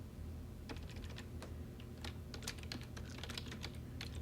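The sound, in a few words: typing on a computer keyboard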